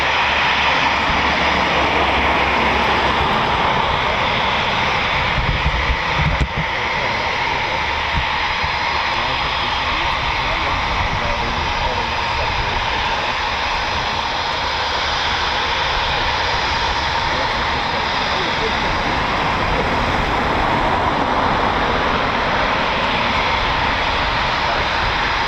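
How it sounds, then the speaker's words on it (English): A Eurofighter Typhoon FGR4 with twin EJ200 engines roars loud and steady at RAF Coningsby, a broad, continuous jet rumble and hiss that holds for nearly half a minute, with a brief buffet of wind midway and no talking. "Typhoon, powered by two EJ200 engines,"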